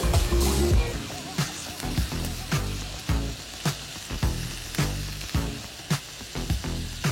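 Butter and garlic sizzle in a pot for pumpkin soup, a steady frying hiss with repeated stirring clatters and bumps of a utensil against the pot, close and fairly loud, no talking.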